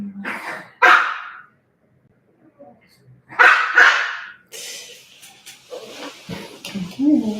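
A dog barks twice in loud, separated bursts a few seconds apart, close by, followed by a person talking and some handling noises.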